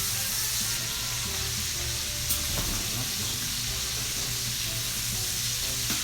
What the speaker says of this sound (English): So I'm just going to brown the sausage a little bit.